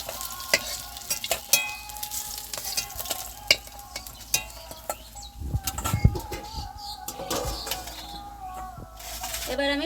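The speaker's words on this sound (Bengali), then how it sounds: "মাছগুলো লাল লাল করে ভেজে নিয়েছি," Rohu fish pieces frying in hot oil, with a steady sizzle under scattered stirring and scraping clatters, fairly close, and occasional bird coos faintly in the background.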